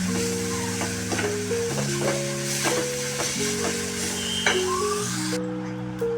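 Chopped coriander with a little tamarind sizzles steadily in a hot pan while it is stirred, with soft squishing turns over continuous frying noise and background music.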